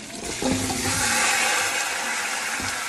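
Chicken returned to a hot pot hisses and sizzles loudly, a dense steady crackle that rises quickly at the start and holds at close range with no talking.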